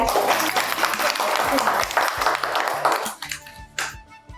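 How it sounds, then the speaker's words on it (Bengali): An audience at a televised couples' game show breaks into loud, dense applause that carries on briefly and then thins out, heard close over a steady background. "সকলে জোরে হাততালি"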